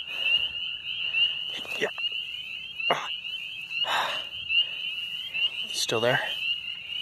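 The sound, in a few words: spring peeper frog calling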